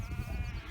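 Sheep on fresh spring pasture grass give a continuous low bleating blur that sits close and steady, with no talk over it.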